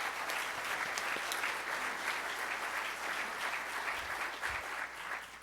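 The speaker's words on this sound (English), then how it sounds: "you really should be applauding for yourselves" An audience at a Rotary Club of Tulsa luncheon talk applauds in a dense, steady burst of clapping that carries on throughout with no talking.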